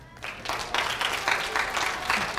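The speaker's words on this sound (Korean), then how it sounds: "박수 한번 쳐드릴게요" Brief burst of audience applause at a popular science lecture in Incheon, moderately close clapping that rises after a quiet start and holds steady for a couple of seconds.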